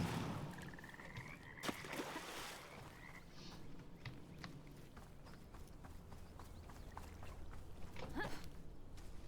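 A frog croaking in the video game Bramble: The Mountain King, heard among rhythmic clopping steps and ambient forest sounds, moderately close and without speech.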